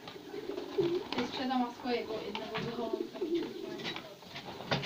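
Pigeons coo softly in a series of low, rolling calls while a person talks nearby.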